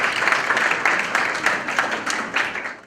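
Audience applause welcoming a panelist at a Hindi-language discussion on higher education, steady moderate clapping from a crowd that holds through the whole stretch with slight swells.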